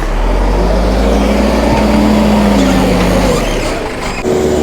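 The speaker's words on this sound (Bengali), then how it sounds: "ওপাশেও লম্বা গাড়ির জ্যাম।" Vehicles sit in a long traffic jam on a rain-damaged mountain road near Narkanda. Close engines idle and rumble in a loud, steady, deep drone, and a brief mechanical shift comes near the end.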